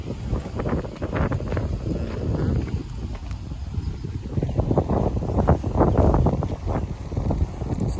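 Wind blowing outdoors at a tire shop, rumbling and buffeting the microphone in uneven gusts, mixed with scattered close knocks and clattering handling noises, fairly loud and with no voices.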